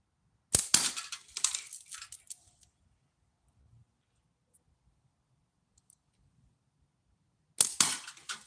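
Rapid slingshot shots hit a target at about ten meters outdoors at dusk, arriving as quick bursts of sharp snaps and clicks, followed by a long quiet gap and then another fast cluster of impacts.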